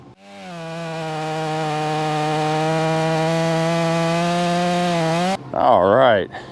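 A sawmill blade cuts through a large walnut log of about two feet in diameter, holding a steady, loud, rising whine for about five seconds before cutting off into a shorter, wavering burst.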